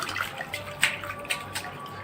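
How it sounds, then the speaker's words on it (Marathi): Sliced potatoes for chips being rinsed in water, soft sloshing and light splashes with a few sharper plops, close and fairly quiet, no talking. "जोपर्यंत स्वच्छ पाणी निघत नाही तोपर्यंत हे स्वच्छ धुत राहायचे।"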